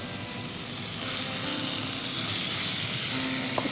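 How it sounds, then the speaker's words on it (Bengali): Shrimp frying in hot butter sizzles and hisses steadily and loudly throughout, with faint stirring, close up and without talk. "বাটারটা আমার গরম হয়ে গেছে, আমি শ্রিম্পগুলো দিয়ে দিচ্ছি একে একে।"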